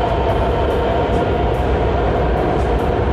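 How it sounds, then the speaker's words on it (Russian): Steady, loud rumble of a metro train inside an underground station in Hanoi, a continuous roar of wheels and motors with no pauses. "Вот так в целом выглядит станция метро."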